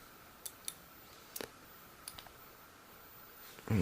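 Small cutters snip the trimmed-off leads of soldered components on an electronic dice kit: a handful of sharp, faint clicks spaced irregularly over a quiet background, ending with a short louder knock.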